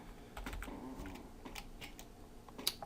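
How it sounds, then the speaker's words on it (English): Quick, light keystrokes on a computer keyboard in bursts of soft clicks, fairly quiet and close, with no speech over it. "I cannot type today."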